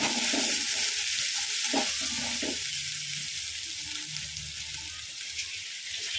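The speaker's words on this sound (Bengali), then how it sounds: "মশলা মোটামুটি প্রায় ভাজা হয়ে গেছে" Spices frying in a pan for a Bombay duck curry, a bright constant sizzle close up, with spatula stirring scrapes in the first few seconds that then settle into an even hiss.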